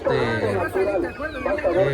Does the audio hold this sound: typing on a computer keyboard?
no